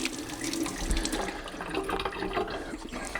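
Water splashes and runs over splash-and-go Japanese sharpening stones used for freehand knife sharpening, a close, busy wet spatter with no talk.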